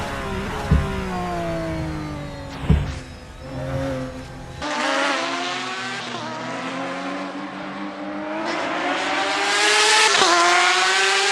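Porsche 911 RSR race cars lapping Zandvoort in a racing video game, engines howling loud and close with rising revs and gear shifts, a sharp pass-by burst early, then a sustained high-pitched scream building toward the end.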